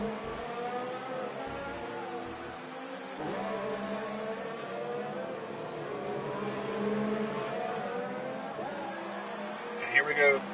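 Race cars in a sim racing game at the Hungarian Grand Prix, engines droning steadily through a corner with shifting pitch as several cars run together, under continuous commentary talk.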